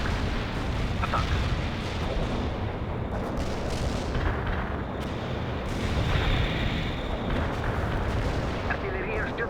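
Sustained artillery barrage in World in Conflict, heavy rumbling blasts and bursts of fire rolling continuously at a loud, steady level, with voices calling out over the bombardment.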